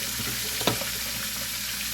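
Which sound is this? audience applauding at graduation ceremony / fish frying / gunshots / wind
fish frying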